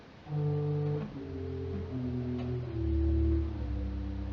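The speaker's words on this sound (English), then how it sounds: "the 32-foot resultant sounds like this" Deep sustained bass notes from a pipe organ's 32-foot resultant stop, low and droning, changing pitch a few times with a soft, rumbling fullness and no voices.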